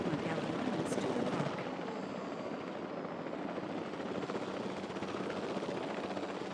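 A convoy of helicopters in Jurassic World Evolution 3 drones with a steady rotor whir that fills the scene, constant and moderately loud with no break.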